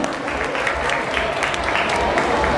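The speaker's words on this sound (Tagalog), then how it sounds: "May dumami yung palakpakan sa'yo" An audience at a cosplay event in a mall hall claps for costumed performers, dense continuous applause with a crowd murmur and a voice speaking underneath.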